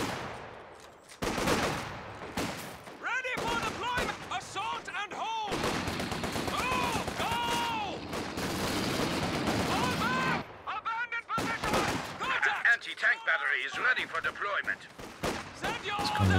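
Rifle and machine-gun fire crackle through a Company of Heroes 2 battle, dense bursts and volleys rolling on for long stretches with brief gaps, fairly loud, with voices shouting orders over parts of it.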